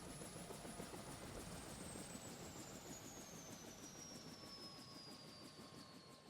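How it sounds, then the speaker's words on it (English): A helicopter in the video game Date Everything! drones as a faint, steady engine wash, with a thin high whine that slowly drops in pitch throughout. "Why is there a helicopter?"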